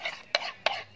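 A spoon stirring raita with added water in a bowl makes soft scraping swishes and two sharp taps against the bowl side, close and fairly quiet.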